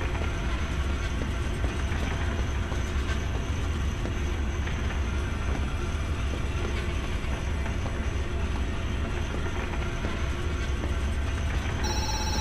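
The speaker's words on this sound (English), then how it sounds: "Getting phone calls." A telephone rings in the horror game Zoochosis, set in a zoo at night, with a steady bell-like ring over a dense, continuous background hum that runs unbroken for the whole stretch.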